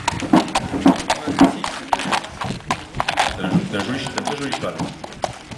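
Horse hooves clip-clopping at a stallion presentation, a rhythmic series of hoof strikes with an announcer talking over them.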